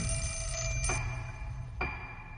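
A telephone rings steadily in the horror video game Fatal Frame, a loud, even electronic ring with no talk over it.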